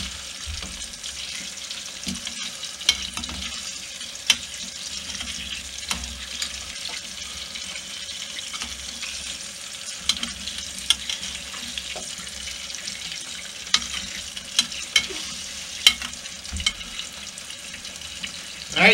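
Bread dough frying in a pan on an alcohol stove aboard a boat, a steady soft sizzle over a low rumble with scattered small pops and clicks throughout, no speech.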